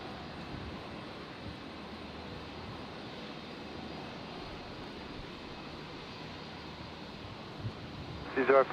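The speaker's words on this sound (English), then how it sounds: "It's amazing how quiet these 350s are" An Airbus A350 lands at Brisbane Airport as a faint, steady jet hum beneath wind noise, with a brief radio voice breaking in at the end.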